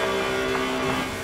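Car engine in the Forza Horizon 4 racing game droning steadily at top speed, a constant loud tone held without change.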